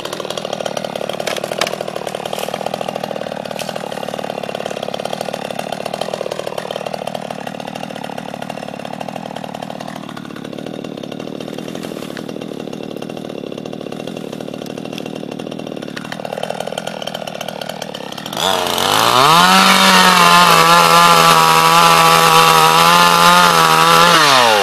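A chainsaw trims branches off freshly cut fence posts being prepared to replace posts burnt out in a bush fire, its engine running loud and close throughout, dropping to a lower idle mid-clip and surging to a high-revving cut near the end.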